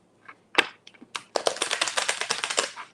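Tarot cards being shuffled by hand during a live reading: a few quick riffles, then a steady run of dense, crisp card-flicking clatter close to the microphone, with no talking.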